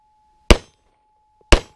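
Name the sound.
gunshots hitting a steel target during shooting drill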